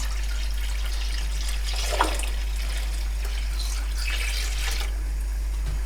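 Water pours steadily into a pot holding jars of cherry compote with a soft, continuous hiss, a brief louder splash near the middle, and no talking.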